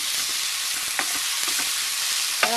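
Kale and mixed vegetables fry in a teaspoon of oil in a pan, a steady loud sizzle with a few faint stirring clicks and scrapes throughout, no voices.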